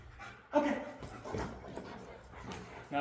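A dog whimpers and yips in short, soft bursts nearby, mixed with panting, while a person speaks over it.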